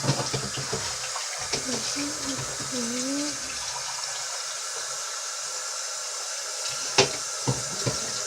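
Water pours steadily from a cup into a pot of stock, a continuous splashing rush that runs throughout with a few faint clinks near the end.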